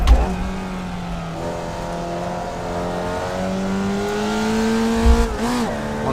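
A Formula Vee engine in the iRacing sim revs steadily, its pitch rising slowly through a long pull with a brief dip at each shift, ending in a quick blip and downshift near the end, loud and alone.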